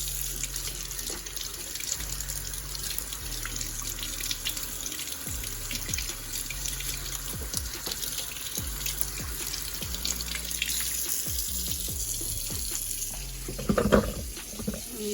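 Food processor parts from a Cuisinart are rinsed under a running kitchen tap, a steady close splash of water with small knocks and clatters of plastic pieces being handled, growing busier near the end.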